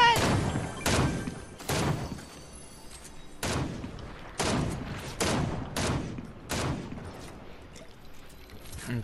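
Bursts of gunfire from other players in a Fortnite match, a string of loud broadband shots and thuds repeating irregularly, near and punchy.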